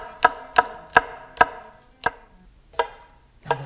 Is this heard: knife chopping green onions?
yes